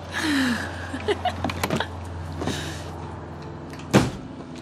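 An RV's entry door opens with a latch click and a short creak, then a sharper knock near the end as it swings fully open, close by and fairly quiet, with a few voiced sounds around it.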